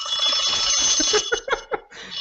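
An alarm ringing with high, steady electronic tones that break into choppy, pulsing bursts, loud and close, with no talking over it.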